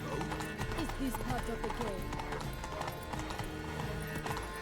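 Horse hooves clip-clop in The Witcher 3: Blood and Wine as a rider moves through a city, a steady rhythmic clatter mixed with music and bustle, with people talking over it.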